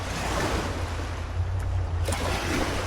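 A continuous, fairly loud rushing wash of waves coming in, mixed with wind, with no voices.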